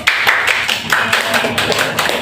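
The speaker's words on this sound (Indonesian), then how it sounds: "Berikan tepuk tangan dulu." A classroom of children clapping for a student group after their presentation, a steady patter of hand claps with voices mixed in, close and fairly loud for about two seconds.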